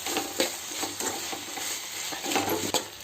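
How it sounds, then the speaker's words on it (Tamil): Tomatoes with rock salt stirred in a pan, with repeated scraping and light clinking strokes of a spoon in a loose rhythm over a soft sizzle, close by and with no talking. "நல்லா கிளறி விட்டாச்சு"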